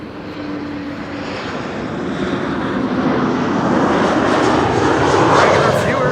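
A polished airliner arriving from Warsaw to land at Amsterdam Schiphol, its engine roar steady and broad throughout, gradually growing louder as it nears and peaking close overhead near the end.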